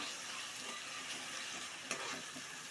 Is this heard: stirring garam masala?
yes